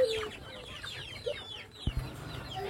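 Free-range village chickens on a poultry farm cluck and chirp repeatedly at moderate distance, several birds overlapping in an irregular rhythm, with a brief thump partway through and a faint rooster-like call among them.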